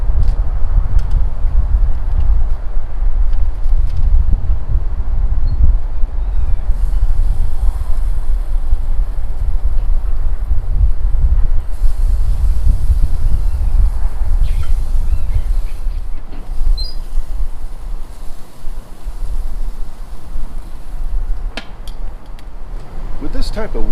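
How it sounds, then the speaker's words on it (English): Wind gusts outdoors on a windy evening beside a Weber grill cooking skewers, a steady low rumble buffeting the microphone throughout, loud and continuous with slight swells and dips. "It's a little windy tonight, so we're going to add a little extra time."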